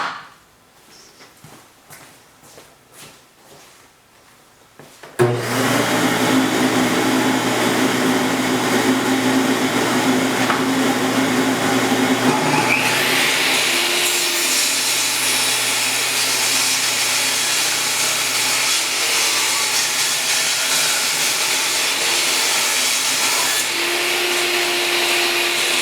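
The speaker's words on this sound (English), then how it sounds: "on my table saw, I'm going to set the fence up so that I can cut just this edge right over here" A table saw rips the edge off a piece of recycled wood, a loud steady motor whine that starts abruptly after a few quiet knocks and drones on, rising briefly in pitch as the blade bites the board.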